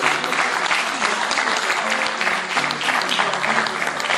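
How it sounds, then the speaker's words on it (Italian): An audience at a singing competition award ceremony in Jesolo applauds young singers with steady, dense, enthusiastic clapping that stays loud and even, while faint voices murmur underneath. "Facciamo un applauso a questi giovani."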